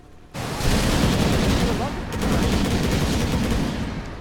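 A dense, crackling rocket barrage from the game Dota 2 erupts suddenly and keeps up a loud, sustained rattle of rapid blasts, dipping briefly at the midpoint before surging again.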